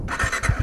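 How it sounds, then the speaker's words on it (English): A 2021 Bajaj Dominar 400 BS6 motorcycle starts up with a brief, close squealing crank and a few low, thumping pulses as the engine catches. "acceleration test on the Dominar 400 2021 BS6 version, and let's start it up"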